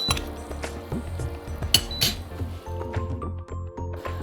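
A spoon clinks and scrapes against a pot as grated jaggery is stirred into a cooked millet dish, with repeated close metallic taps and a steady background hum.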